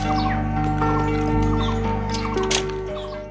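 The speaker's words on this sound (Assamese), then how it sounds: "টুকুৰা চৰাই কিচিৰ মিচিৰ শব্দত মুখৰিত চৌপাশ" Weaver birds nesting in areca palm trees in a yard chirp and twitter continuously over a steady, tonal background hum, with scattered brief calls rising above the mix.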